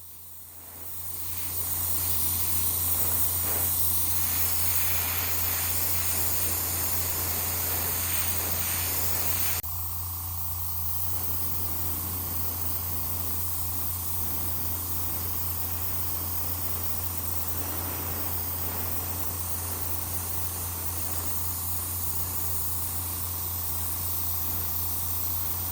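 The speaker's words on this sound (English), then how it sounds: "The window masks are put onto the plastic window pieces and painted using an airbrush." Airbrush spraying paint onto plastic window pieces of a Honda Integra DC5 resin model kit, a steady close hiss with a low hum underneath that dips slightly partway through and runs on unbroken.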